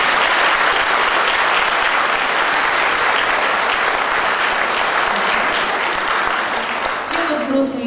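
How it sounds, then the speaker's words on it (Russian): An audience applauds at the 85th anniversary celebration of Odessa children's music school No. 3, a dense, sustained wash of clapping that carries steadily and thins out near the end. "Аплодисменты школе!"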